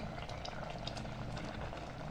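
A pot of rice and water for Kathiyawadi khichdi bubbles at a steady rolling boil, a dense, constant gurgling close up.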